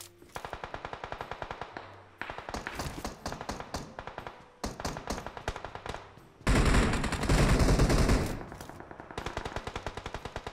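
Bursts of automatic gunfire from the mobile battle-royale game PUBG Mobile: rapid, evenly spaced shots in several volleys, with a loud, dense stretch of fire near the middle before steady shooting resumes.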